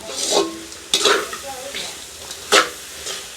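A spoon scrapes and stirs fried dried fish into a sizzling stir-fry in a pan over a village stove, giving a few close, distinct scraping strokes over a steady hiss of frying.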